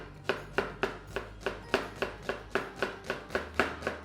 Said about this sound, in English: So we'll start by chopping the onions.